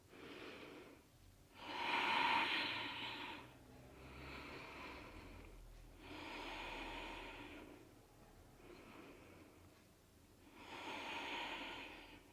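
Slow, deep breaths during a yoga pose, long audible inhales and exhales in a steady rhythm, about four breaths close and soft.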